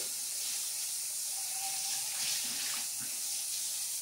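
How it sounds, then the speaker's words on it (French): Tap water runs steadily into a sink, wetting and rinsing a cleaning glove. The flow makes a soft, even splashing hiss with faint shifts as the glove moves under the stream. "donc juste simplement mouiller avec de l'eau votre gant. Vous pouvez aller rincer."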